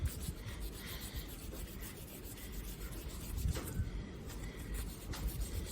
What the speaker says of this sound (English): So if you take a piece of sandpaper and put an angle on that